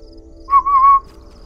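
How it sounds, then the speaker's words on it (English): A player character in the survival game DayZ gives a short, clear two-part whistle, close and loud against a near-silent background. "I knew that little whistle tactic"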